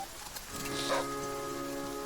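Rain falling in the survival video game The Flame in the Flood, a steady hiss of drops on surfaces that swells in, joined by sustained tonal music-like hum, with no talking over it.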